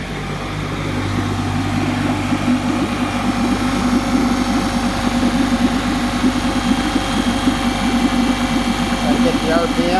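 A new 2020 Tohatsu 9.8 hp outboard motor runs during its break-in, giving a loud, close, steady droning hum with an even mechanical rattle that holds for the full ten seconds.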